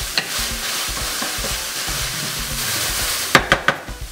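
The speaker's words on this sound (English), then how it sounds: "we're gonna add the chopped onion and the garlic" Chopped onion and garlic frying in a pan with browned meat for papas rellenas, a steady close sizzle with stirring scrapes and a few sharp utensil knocks near the end.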